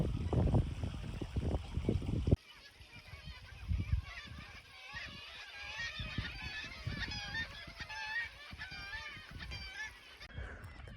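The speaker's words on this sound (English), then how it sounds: "It's like a bird fight club down there." Geese honking and squawking loudly in a noisy, agitated, fighting flock below a cliff in Iceland, calls overlapping continuously with some splashing, after a brief burst of other noise at the start.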